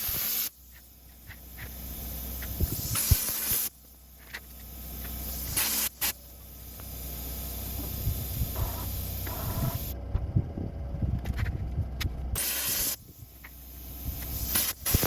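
A plasma cutter slices steel cradle parts for a PAK 43 restoration with long, harsh hissing bursts broken by brief pauses. The crackling, sputtering roar is close and loud, with no talk.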